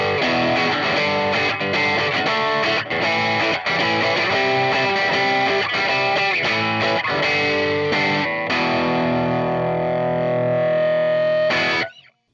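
Electric guitar played through a Vox AC10C1 amp into an external 2x12 cabinet, recorded with a dynamic cab mic; loud, driven chords and riffs ring continuously before a final sustained chord cuts off abruptly.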